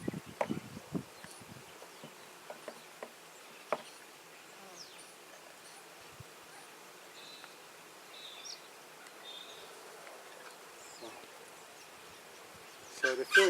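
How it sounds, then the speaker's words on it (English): A packed honey bee hive gives off a soft, continuous buzzing hum, with faint clicks and handling rustles scattered through it during an inspection. "Certainly seems to be a lot of bees packed in here."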